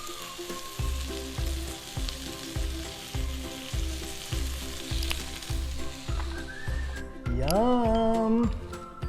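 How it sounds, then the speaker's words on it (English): Thin slices of prosciutto sizzle in a hot pan for a grilled cheese sandwich, a continuous crackling fry under a regular rhythmic thumping, then a brief rising musical tone near the end. "Heat up a pan, thin slices of prosciutto."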